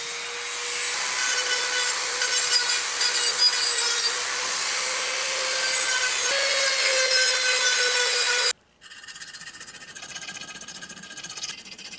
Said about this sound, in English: take my die grinder, clean the inside hole out